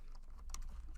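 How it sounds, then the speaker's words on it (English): Rapid, light keystrokes on a computer keyboard while working in Access, a quick patter of clicks close to the mic over a steady low hum, with no talking. "Notice I start typing"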